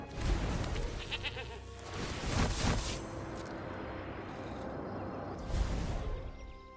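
A goat bleats as a sound effect in the digital card game Magic: The Gathering, a loud, noisy, drawn-out cry over a dense, steady game backdrop with a second swell near the end.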